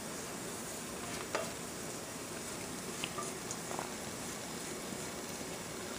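Dhokla batter going into a hot pot and being worked with a spatula, a faint soft sizzle and wet stirring with occasional light scrapes and taps, quiet and steady throughout.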